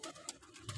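Soft, low pigeon coos roll in short repeated bursts, fairly close and quiet, with no voices.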